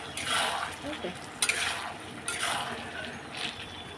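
Paneer masala thickened with a spoonful of cornflour is sautéed in a pan, making a soft, steady sizzle with scraping stirs and a couple of sharp utensil knocks against the pan.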